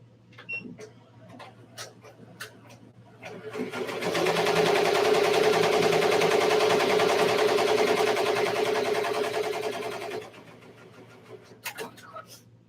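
Sewing machine stitching with teal thread in a small craft studio, a loud steady mechanical whir running about six seconds between quieter handling clicks and taps.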